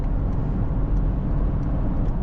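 Mercedes-AMG GLE 53 Hybrid, a 2026 model, on the move: a steady, loud low engine and exhaust drone with road noise, unbroken throughout and heard close without talk.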